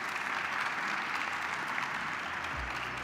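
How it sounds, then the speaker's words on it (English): An audience at a smart cities forum applauding the panelists, a steady burst of clapping from many hands that holds for about three seconds with no voices over it. "Please give a round of applause for our panelists today"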